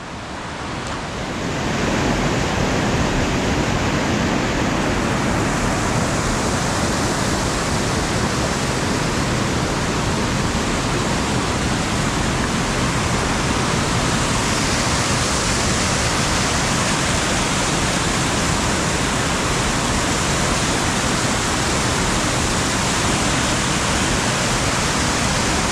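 The Assi Ganga river rushes steadily beside a Himalayan village near Dodital in Uttarakhand, a loud, unbroken roar of water that holds constant throughout with no voices.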